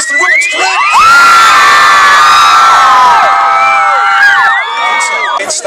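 A big crowd of young fans at a Harry Potter stars appearance in Amsterdam screams and cheers loudly and continuously, with high shrieks and whoops rising over a dense roar and no clear words.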